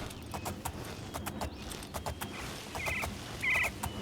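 Rhythmic clip-clop of galloping horse hooves on hard ground in the video game Oblivion, steady and fairly close, with a few brief chirpy tones and light ambient noise.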